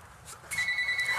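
A telephone starts ringing partway through, a steady electronic tone with pulsing repeats over a soft room hum, moderately loud and without any voices.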